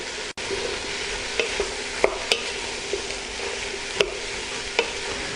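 Sliced leeks stirred in a frying pot, a steady soft sizzle under a few sharp clicks and scrapes of the spoon against the pot.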